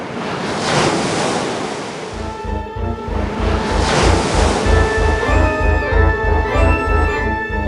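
A tidal wave crashes in a roaring broadband surge that swells and recedes, then gives way to rhythmic pulsing surf with a low repeating throb and faint tonal hum, loud and close throughout, from the film The Poseidon Adventure.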